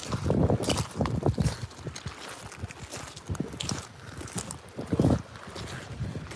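Strong, gusty wind buffets the microphone on a beach beside a marina, roaring in uneven surges with a few louder bursts and no voices.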